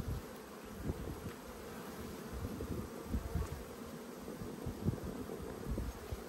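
Honey bees swarm around an open beehive, a dense, continuous buzzing of many wings close by, fluctuating softly in loudness with no voices.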